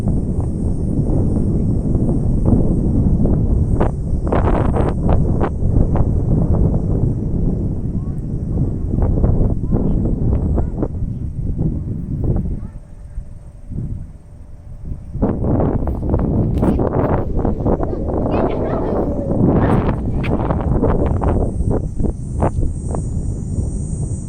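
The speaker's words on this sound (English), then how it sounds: "it's windy" Gusty wind buffets the microphone with heavy low rumbling, dropping briefly before surging back strongly.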